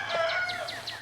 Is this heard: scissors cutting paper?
no